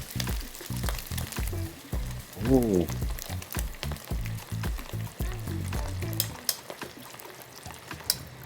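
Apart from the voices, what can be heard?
shrimp toast deep-frying in oil in a wok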